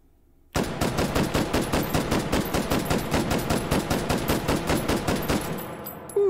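A Galil AR rifle in the virtual-reality shooter H3VR fires semi-automatic in a rapid, evenly spaced string of about five loud, sharp shots per second for several seconds, then briefly pauses before one more shot.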